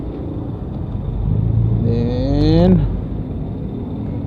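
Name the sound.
road traffic noise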